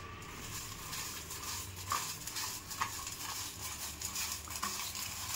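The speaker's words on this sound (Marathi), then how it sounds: "आता काय करू, हाताने कालव आता।" Papad chutney mixed by hand with salt, a soft, close squishing and rustling with small clicks against the bowl, quiet and continuous with no voices.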